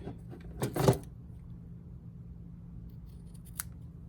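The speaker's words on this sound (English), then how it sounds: "And then I'm going to trim the ends a little bit." Scissors snip the ends of a fabric ribbon tied on a handmade Christmas card: a quick cluster of two or three close, crisp cuts, then quiet with a faint later click.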